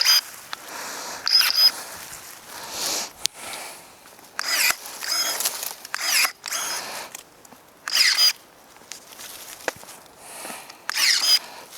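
An Amazon Swansoft battery-powered electric pruner works at a thick tree limb a little over an inch across, making repeated short whirring, ratcheting bursts of the motor with pauses between them, close and fairly loud, with no talking.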